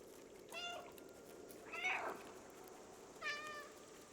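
A cat meows three times in the video game Stray, a raspy, hoarse voice with short separated calls over a quiet background.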